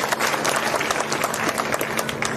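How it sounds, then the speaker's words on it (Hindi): A crowd at a political rally in Haryana claps loudly for the elders, sustained applause with sharp individual claps standing out through the whole stretch. "एक बार जोरदार तालियां हमारे सभी बड़े बुजुर्गों के लिए"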